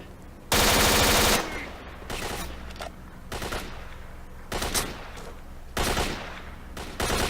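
Gunfire in S.T.A.L.K.E.R.: Shadow of Chernobyl, opening with a loud, close automatic burst, then scattered quieter single shots and short bursts at irregular intervals, some sounding more distant.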